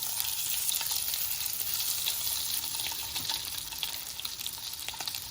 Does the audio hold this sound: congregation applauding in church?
no